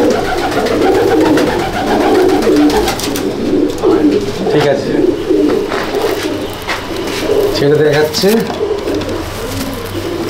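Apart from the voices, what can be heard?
Madrasi pigeons cooing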